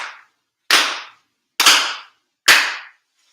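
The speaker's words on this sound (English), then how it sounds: "4 sincere claps along with the head officiant" Four sharp ritual hand claps at a Shinto spring memorial ceremony, loud and close, evenly spaced with brief echoing decays and no talk.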